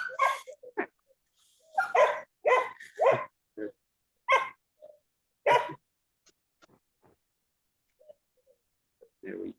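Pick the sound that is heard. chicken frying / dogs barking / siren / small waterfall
dogs barking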